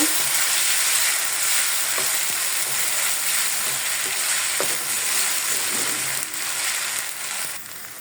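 Cumin paste and garlic paste sizzle and spit steadily in a hot pan with oil, with occasional stirring scrapes and a loud, continuous frying crackle throughout. No voices.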